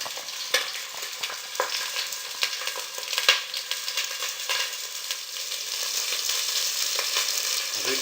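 Duck cooking in a pan, a steady crackling fry hiss with small irregular pops, close and moderate in level, rising slightly toward the end, with no talk.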